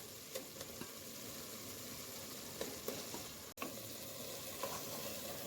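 Potatoes tipped into hot oil and masala for a dahi aloo sabji sizzle in a pan, a steady close frying hiss with a few soft stirring knocks and taps.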